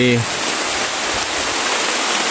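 Heavy rain roars as a dense, steady wash of hiss, with a brief low tonal hum at the very start, in the Philippines.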